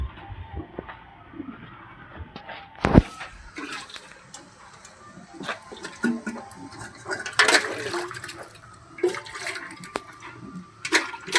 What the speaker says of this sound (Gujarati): પેલા છે ને પાણીથી આસળ ધોઈ નાખવાના